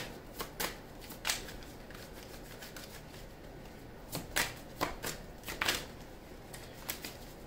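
Tarot cards being shuffled by hand, a run of crisp riffling bursts and soft slaps repeating irregularly, close and fairly quiet with no talking.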